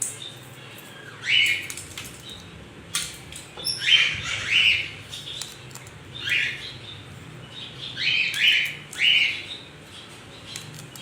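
A cockatoo gives repeated harsh, raspy screeches in clusters of two or three, fairly close, spread across several seconds over a steady low background hum, with no one talking.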